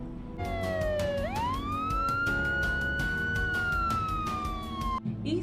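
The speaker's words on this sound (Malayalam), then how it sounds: "ഇത് കൂടുതലും നമ്മൾ ഹൈവേസിൽ പോകുമ്പോഴാണ് ഉപയോഗിക്കുന്നത്" A loud electronic ambulance siren wails continuously, its pitch sliding up then holding and slowly falling, with a steady rhythmic pulsing underneath.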